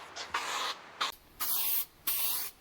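A spray gun nozzle shoots coating in four short bursts, each a sharp hissing spray lasting about half a second with brief silent gaps between, close and fairly loud.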